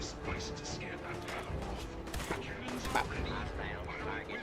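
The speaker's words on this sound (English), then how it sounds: "I really like shooting cannons in this." Cannons fire in the Fallout video game as a rapid burst of loud, booming blasts mixed with mechanical clanks, all packed into a few dense seconds.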